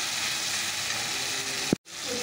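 Oil hisses and sizzles steadily in a frying pan in a home kitchen, a dense close crackle that stops abruptly near the end before resuming.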